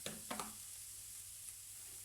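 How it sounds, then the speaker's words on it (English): Onions and mushrooms fry in a hot pan with a steady soft sizzle, broken near the start by a few brief stirring scrapes, faint and without talk. "We're going to go in with onions and mushrooms."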